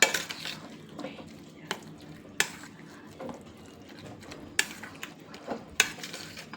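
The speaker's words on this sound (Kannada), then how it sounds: "ಇದನ್ನೆಲ್ಲ ಚೆನ್ನಾಗಿ ಮಿಕ್ಸ್ ಮಾಡ್ಕೊಳ್ಳೋಣ" Spoon stirring curd and salt in a bowl for radish curd bajji, with soft scraping and a few sharp clinks against the bowl, close and fairly quiet with no voices.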